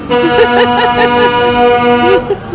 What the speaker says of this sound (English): When a truck honks like that, you gotta wave.